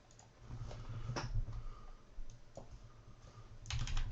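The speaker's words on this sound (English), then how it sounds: "So we're going to type in" Quiet keystrokes click on a computer keyboard as values are entered in CAD software, a handful of soft, irregular taps over a low hum.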